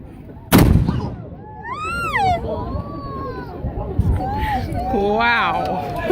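A cannon fires at the Castillo de San Marcos fort in St. Augustine, Florida: one sudden loud boom near the start, its rumble trailing off under excited crowd chatter and talk that continue afterward.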